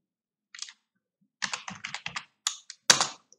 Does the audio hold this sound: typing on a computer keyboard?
yes